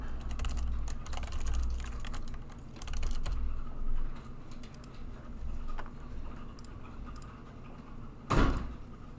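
Keystrokes clatter on a computer keyboard in irregular bursts of typing, close and fairly loud, followed by a single sharp knock near the end.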